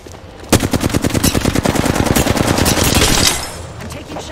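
Rapid automatic gunfire in a video game, a sharp onset followed by a fast continuous burst of loud close shots lasting about three seconds before cutting off.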